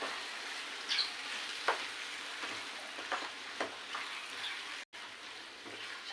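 Ridge gourd and chana dal curry with chili powder being stirred in a pan, a steady close sizzle of frying under scattered soft scrapes of the spoon.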